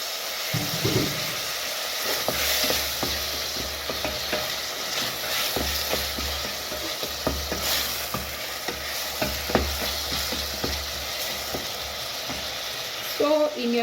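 Matoke stew ingredients, green bananas among them, sizzle in a hot pan while a spoon stirs and scrapes them, with steady frying crackle and a low hum running underneath throughout.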